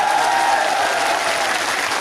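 Crowd applause at an outdoor political rally at Azad Maidan in Mumbai: dense, continuous clapping from a large audience that holds steady and loud throughout, with a faint murmur of voices underneath.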